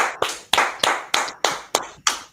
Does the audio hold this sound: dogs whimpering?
no